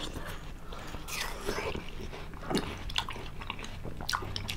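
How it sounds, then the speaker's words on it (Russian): Close-up biting and chewing of watermelon at a home meal, with soft, wet crunches and several distinct bites over a faint background hiss. "Впервые ем арбуз"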